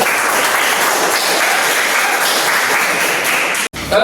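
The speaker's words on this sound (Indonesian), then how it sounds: "kita kasih tepuk tangan." A class of eleventh-grade students at an Islamic school claps together in a classroom, a loud, dense burst of applause that holds steady and then cuts off abruptly near the end.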